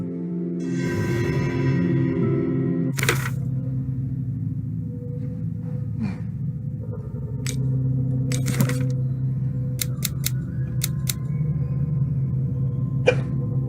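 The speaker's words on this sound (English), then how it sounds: "I also have the hiccups for some reason" Several sharp, short hiccups from a person, spaced irregularly with a couple of quick doubled ones, heard close over a steady low musical background.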